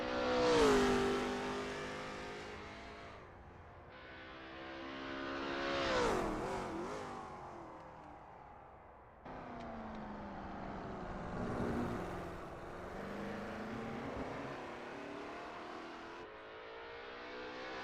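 Lola T70 MkII Spyder race car in a racing game at Sebring International Raceway, its engine revving up and down through gear changes with a steady droning roar, loud and close, no talk.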